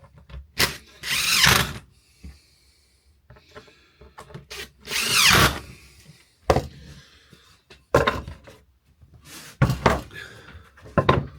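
A power drill drives screws into wood for a rustic Christmas sign in several loud whirring bursts, separated by quiet pauses and handling noises.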